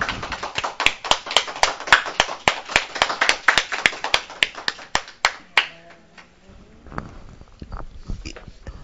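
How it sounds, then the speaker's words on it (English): An audience gives a young woman a round of clapping at a speaking event, loud distinct claps in a fairly regular rhythm for about five seconds, then fading into a few scattered claps and quiet room noise. "Let's give her applause"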